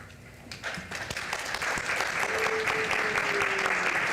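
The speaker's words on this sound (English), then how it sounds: "No clapping yet." At a city council meeting, applause breaks out after an agenda item passes, starting with scattered sharp claps and swelling into steady crowd clapping over about four seconds, with a faint tone and murmurs beneath.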